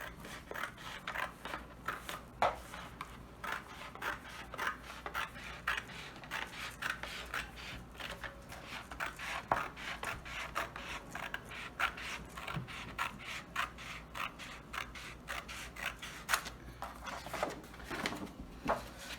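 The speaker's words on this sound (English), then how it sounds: "I'm going to take my pair of scissors and I'm going to first cut here straight down." Scissors cutting straight down through fabric for a storage box, soft repeated snips and creaks close by, steady and fairly quiet throughout with no talk.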